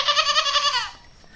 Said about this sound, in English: We've got some goats up here.